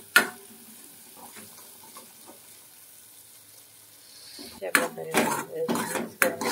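A spoon stirring ground masala in a metal pan for misal, a single clank at the start, a quiet stretch, then several loud, close scraping and clattering strokes near the end, with no voices.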